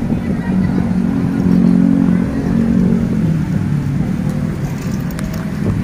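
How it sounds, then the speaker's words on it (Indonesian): A motorcycle engine runs with a loud, steady low drone close by, swelling slightly at times without sharp revs, while voices may be faintly present beneath it. "Wah, itu motor kita, Jang."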